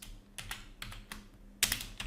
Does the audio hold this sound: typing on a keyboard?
yes